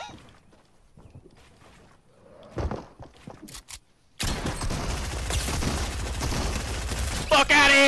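Rapid SMG gunfire in a first-person shooter game, a dense continuous burst starting abruptly and running loud to the end after quieter earlier shots and movement noise.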